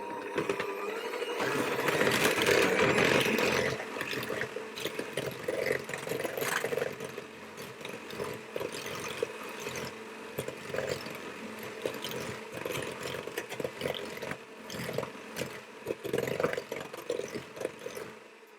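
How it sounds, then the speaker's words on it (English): Eggs and sugar whisked with an electric hand mixer, a close buzzing whir with rattling beaters that is loudest at first and then carries on more unevenly. "I'm going to whisk those together, and as ever I'm going to use my hand mixer"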